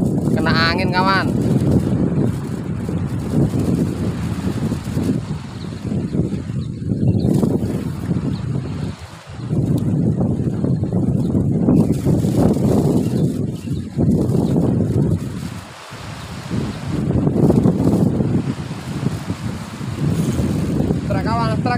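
Wind buffets the microphone steadily while fishing from a bank, a broad rumbling roar with gusty swells that dips briefly twice, and no clear voice comes through it.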